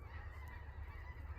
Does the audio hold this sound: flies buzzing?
no